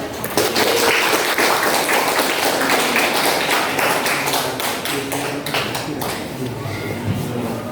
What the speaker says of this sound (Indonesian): silakan kasih tepuk tangan dulu